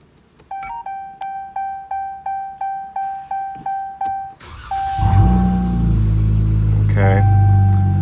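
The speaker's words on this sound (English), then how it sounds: "you power on your car" A 2018-2021 Dodge Challenger powers on: a run of about a dozen evenly spaced electronic chimes, then the engine catches and settles into a loud, steady idle with a brief rising tone near the end.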